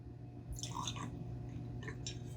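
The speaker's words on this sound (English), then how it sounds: "And of course, bottle A into glass A." Aged bourbon whiskey poured from a bottle into a glass, two brief close bursts of splashing and dripping liquid separated by a short pause, quiet with no voices.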